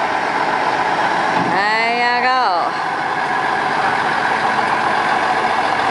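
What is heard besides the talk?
old truck driving past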